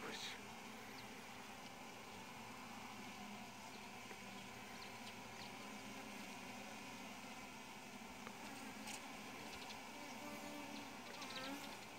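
A native Korean honeybee swarm entering its hive after a first swarming, a dense, steady buzz from many bees, continuous and fairly faint, with no talking.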